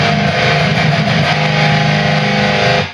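Electric guitar overdriven through an Ibanez TS9 pedal with noise suppression, a loud, dense sustained distorted chord held steadily for about three seconds, then cut off cleanly into silence.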